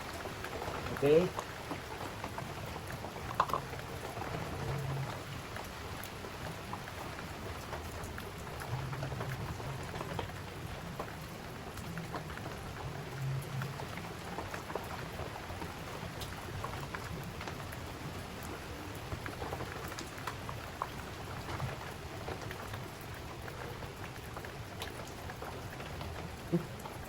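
Continuous rain falling hard, a constant dense patter of drops on surfaces, with occasional louder splats and muffled voices underneath.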